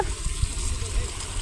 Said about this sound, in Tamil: இப்போ திரும்பி தண்ணி ஓடுறத பார்க்குறேன் நான்